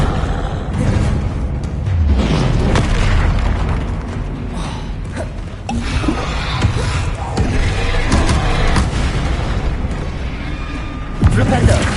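Spell blasts from Flipendo and Confringo in Hogwarts Legacy, a run of punchy booms and bursts during combat near a troll, layered over game sound and under a voice calling out spell names.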